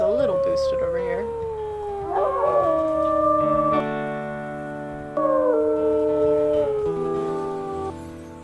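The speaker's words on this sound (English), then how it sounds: "I will still maybe do a howl just to make sure the territory is a little boosted over here." Wolves howl in the video game WolfQuest, with several long, overlapping, tonal howls rising and falling in a sustained chorus, loud and close.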